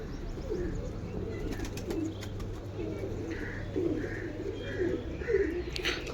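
Pigeons coo in soft repeated low phrases at a loft at night, a steady murmur with a few louder coos near the end, over a constant low hum.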